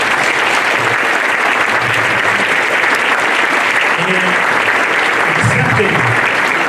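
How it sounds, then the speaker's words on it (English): Loud, close audience applause at a high school athletic hall of fame induction, dense sustained clapping throughout with a voice briefly speaking underneath. "Please give him a round of applause."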